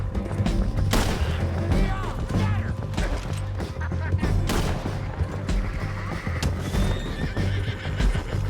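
Horse neighing and whinnying in the Xbox western game Red Dead Redemption 2 during a bounty hunt, loud and close, with hooves clopping and sharp bangs like gunshots or crashes mixed in over a busy game soundscape.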